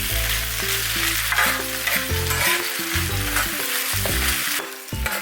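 Pork and vegetables sizzle and hiss loudly in a hot pan while being stirred and tossed, with scraping clatters breaking through the steady frying noise, while cooking Korean gochujang jeyuk bokkeum at a campsite.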